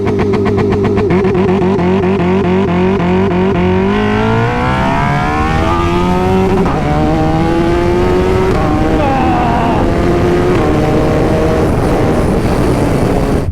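A turbocharged Suzuki Hayabusa motorcycle of about 370 bhp launches under launch control, its engine holding a loud steady rev before climbing hard through rising, stepping gears, close and continuous throughout.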